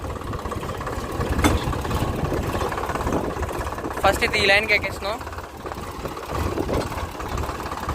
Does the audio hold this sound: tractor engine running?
yes